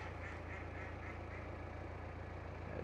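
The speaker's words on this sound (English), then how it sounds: "Yeah, duck's laughing at me." A duck on the Grand Union Canal near Cosgrove quacks in a quick series of short calls, heard over a steady, loud drone of narrowboat engine and water noise.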